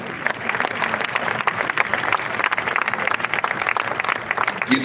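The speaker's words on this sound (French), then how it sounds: "on acclame pour le Seigneur" A church congregation applauds steadily and loudly, a dense sustained wash of many hands clapping with crowd voices mixed in.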